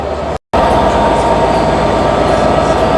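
A V16-powered train built by Metro Cammell pulls into a station with a loud, steady, close rumble and rolling noise that fills the clip after a brief gap at the start.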